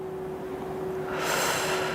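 A slow, deep breath during a back-relaxation and posture exercise, the soft airy inhale building to a louder, brighter rush of air toward the end, with a faint steady hum underneath.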